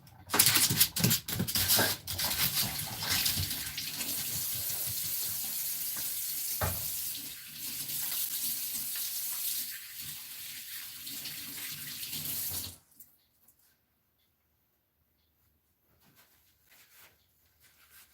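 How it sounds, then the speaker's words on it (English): Water runs from a kitchen tap while hands are washed, making a loud steady splashing that stops abruptly partway through and leaves near silence. "let me get my hands washed"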